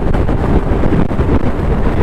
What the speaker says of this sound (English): Hopefully you'll be able to hear the wind change if I lower it.